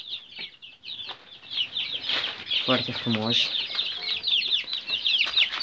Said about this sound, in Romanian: Este o găinușă.